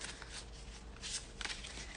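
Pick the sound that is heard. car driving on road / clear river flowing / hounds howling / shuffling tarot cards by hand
shuffling tarot cards by hand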